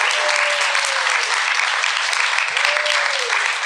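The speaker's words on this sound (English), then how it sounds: "Keep your round of applause for our next panel." Steady audience applause at a public safety panel event, a dense wash of clapping throughout with a voice speaking briefly over it.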